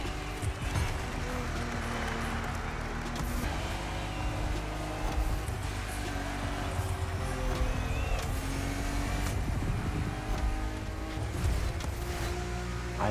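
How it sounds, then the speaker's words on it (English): Porsche 911 race cars driving in The Crew Motorfest, a steady loud engine drone with shifting revs and tire noise from a pack of cars, continuous and alone. "we're racing against all these 911"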